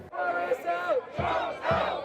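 Crowd of protesters outside Buckingham Palace chanting in unison, a few rhythmic shouted phrases from a large group at moderate distance.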